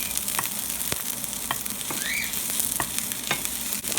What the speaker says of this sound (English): just a quick saute with basil, oregano, and onion.